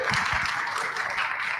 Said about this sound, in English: So give them a little round of applause